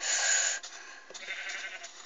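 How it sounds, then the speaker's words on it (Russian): A sheep bleats in Minecraft PE, a single clear game-sound bleat followed by a softer trailing tail, heard alone with no talk. "Овца она моя, да, чувиха."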